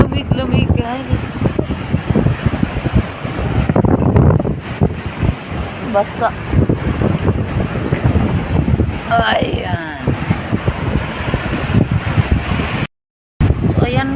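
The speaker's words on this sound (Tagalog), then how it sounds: "Ang lakas ng ano guys. Hangin." Strong, cold wind buffets the microphone at the seashore where big waves break, rushing in uneven gusts beneath a voice talking over it.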